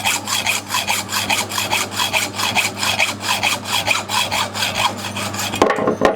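A hand hacksaw cuts through a workpiece held on a metal lathe, making steady rhythmic rasping strokes, loud and close, with roughly two strokes per second and no talking.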